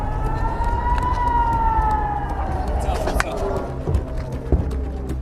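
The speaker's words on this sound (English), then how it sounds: "Rocket fire from Gaza has continued deep into Israel, and the sirens are near non-stop in towns close by" An air raid siren wails in an Israeli town near Gaza, a long rising and falling tone that sounds moderately distant, with crackling outdoor noise, sharp knocks and faint voices underneath.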